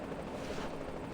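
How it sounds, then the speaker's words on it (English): A helicopter in the video game Reverse: 1999 gives a steady, dense roar of rotor and wind noise, even and unbroken throughout, with no voices. "Before the helicopter can even stabilize, Maldir leaps out, guiding Ulrich from the c"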